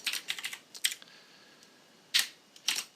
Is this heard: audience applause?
no